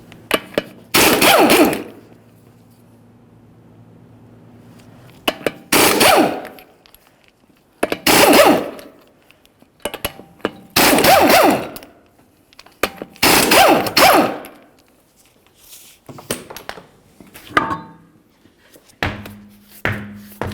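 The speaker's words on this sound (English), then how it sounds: "continue on to your 5 21mm lug nuts. Remove all of those and then the wheel" Five 21mm lug nuts come off a Mercury Grand Marquis wheel in a string of loud, separate bursts of impact-wrench rattling, each a second or so long, with quiet gaps between them and a faint low hum underneath.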